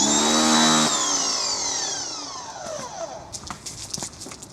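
An ALDI pressure washer motor winds down after running, its whine falling steadily in pitch, followed by a few short clicks and knocks nearby.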